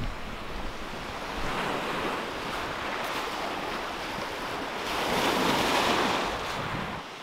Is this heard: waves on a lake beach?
yes